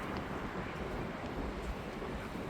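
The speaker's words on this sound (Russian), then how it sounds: "И тут всегда ветер дует" Steady wind blows outdoors among the towers of Canary Wharf in London, a continuous low rushing buffet across the microphone with no break and no voices.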